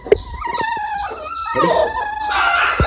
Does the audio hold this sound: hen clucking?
yes